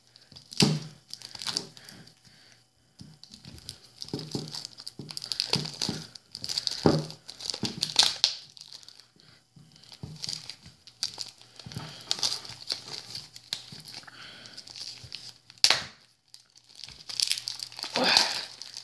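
Plastic wrapping on Trésor X card packs crinkles and crackles in close bursts as packs are opened, with brief tearing and handling noises between quieter pauses.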